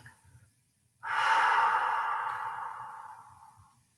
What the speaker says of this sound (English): breathe in through your nose as deeply as you can. And hold that for a moment. And breathe out through your mouth